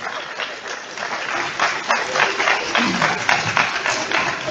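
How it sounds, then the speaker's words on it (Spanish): Audience applause at a school ceremony, a steady wash of many hands clapping that swells slightly toward the end, with faint talk underneath. "Un aplauso, por favor, para todos."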